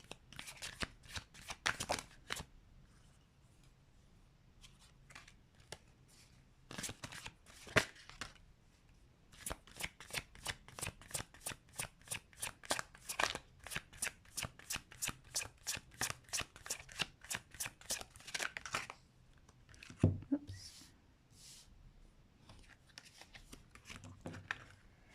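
Tarot cards are shuffled again and again in quick riffling bursts and rapid flicking runs. The crisp papery clatter is close and there is no talk over it.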